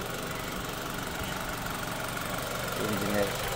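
A brand-new car's engine idles in fresh, like-new condition, giving a steady, even rumble that holds at one level throughout with no change in pitch or speed.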